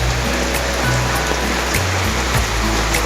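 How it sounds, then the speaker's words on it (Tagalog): Heavy rain pours in a continuous loud rush of water, a dense steady wash with low rumbling and no talk. "Ay wala namang sawang ulan."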